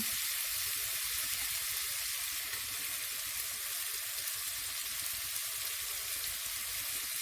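Steady loud hissing sizzle of okra and grated coconut frying in oil in a pan, continuous and close throughout with no voices.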